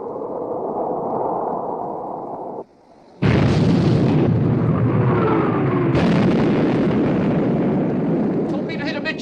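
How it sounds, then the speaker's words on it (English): Heavy warship main guns firing in a 1960 naval war film, booming blasts that break through the roaring battle noise, with a brief drop to near quiet between them. "Open fire, main armament."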